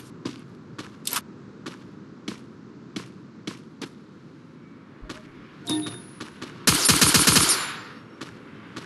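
Gunfire in the shooting game Free Fire: a steady run of sharp, separate single shots, then a loud rapid automatic burst near the end, with no talk.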